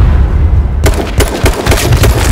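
Bursts of gunfire from a first-person shooter video game, a sharp onset followed by several rapid, loud cracks and booms filling the clip without talk.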